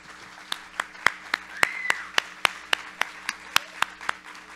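Applause from an audience greeting Bela Gil as she comes on stage at a book fair event, steady clapping with sharp individual claps standing out, moderately loud and lasting several seconds.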